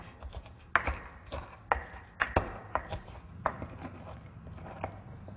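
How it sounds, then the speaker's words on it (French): Garlic cloves are pounded with fleur de sel in a mortar: a series of sharp, irregular knocks of the pestle, about a dozen hits in quick succession, close and clear with no voices. "Donc, on écrase au mortier."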